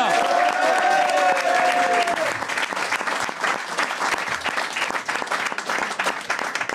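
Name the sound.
audience applause for a reggae band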